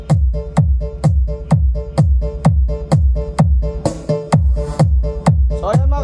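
Music played loud through an Ace LX18 mid-range speaker driven by a Josn Neptune 1000-watt power amplifier, with a steady pounding beat of sharp repeated hits, close and without talk.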